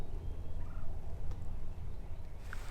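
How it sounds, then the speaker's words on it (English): Distant wild turkeys gobble faintly on public land in Kansas over a steady low outdoor rumble, their calls blending into the background rather than standing out clearly. "There are several turkeys gobbling right now on public land from the sounds of it."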